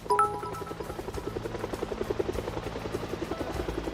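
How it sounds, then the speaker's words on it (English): A helicopter in Project Zomboid thrums with a steady rhythmic rotor chop at moderate volume, with a brief tonal chime at the start. "Oh, helicopter."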